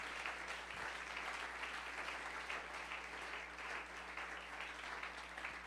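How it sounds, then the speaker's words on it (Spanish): A church congregation applauds during a sermon, a broad, sustained wash of many hands clapping that fills the room evenly, with a low steady hum beneath. "Denle un aplauso al Señor"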